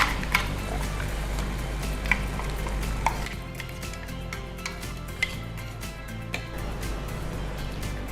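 Chicken frying in a pan as ginger garlic paste is added and stirred, a steady low sizzle broken by sharp clinks and scrapes of a utensil against the pan, close and moderately quiet.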